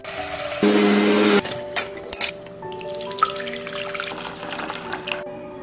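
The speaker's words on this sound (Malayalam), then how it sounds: "ഈ വെള്ളം ഒഴിച്ചോട്ടെ." Water poured from a container in a home kitchen, a steady gurgling stream for under a second followed by scattered drips, clinks and light handling noises close by.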